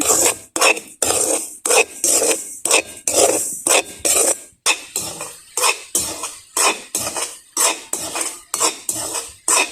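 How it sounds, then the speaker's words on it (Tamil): Semolina dry-roasting in a pan for rava laddu is stirred with a utensil, producing loud, close, rhythmic scraping strokes, about two per second, with no talking. "இப்போ ரவையை வந்து வறுத்தெடுப்போம்."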